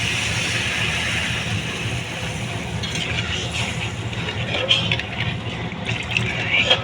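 Water pours steadily into a pan of spiced mustard bata fish curry, a continuous rushing splash with soft bubbling as it settles.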